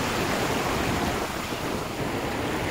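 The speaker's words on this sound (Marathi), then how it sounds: "पाण्याचा खळखळणारा आवाज" Ocean waves roll and rush over the Konkan shoreline, a dense, unbroken wash of churning water close by with some wind noise mixed in.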